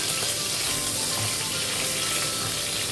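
Hilsa fish heads frying in oil make a continuous, fairly quiet hiss and crackle that stays even throughout, with no voices over it.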